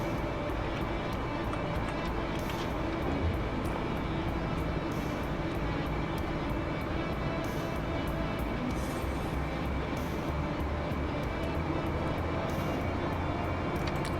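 Airliner jet engines roar steadily through a flight simulator takeoff roll, a dense continuous broadband rumble with constant loudness and no talking.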